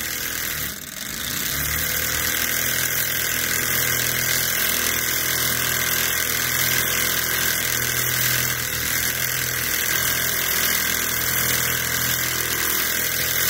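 A tiny Ross Yoke Stirling model engine, the J06F made by Enjomor and fitted with a large side heatsink, runs fast with a steady, even whir and hum that holds at the same level throughout, close and alone.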